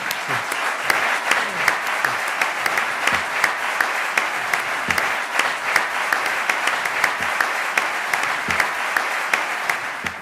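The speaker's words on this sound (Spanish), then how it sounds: "Un aplauso enorme." A theatre audience at a comedy show bursts into steady, loud applause, dense clapping that carries on evenly for the whole stretch with no talk over it.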